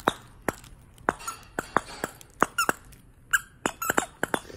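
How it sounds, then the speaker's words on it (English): A squeaky toy squeaks in sharp, loud, irregular bursts, some single and some in quick clusters, close to the microphone over a quiet room. "He loves squeaky toys."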